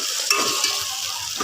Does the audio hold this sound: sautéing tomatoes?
yes